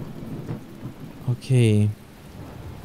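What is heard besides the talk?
rain in the video game The Talos Principle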